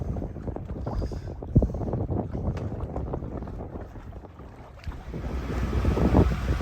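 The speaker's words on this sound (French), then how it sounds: "Le vent venant directement à la petite passe." Wind buffets the microphone aboard a sailing boat at a narrow sea passage between Greek islands near Poros and Agkistri: a steady, rough rush with water sloshing beneath, fairly faint.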